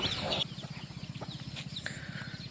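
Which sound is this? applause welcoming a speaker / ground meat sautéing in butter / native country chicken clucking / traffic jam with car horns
native country chicken clucking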